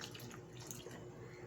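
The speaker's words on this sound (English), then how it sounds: "This is 1 cup water going in." A cup of water is poured into pancake mix, producing a faint, short, steady watery trickle with no voices.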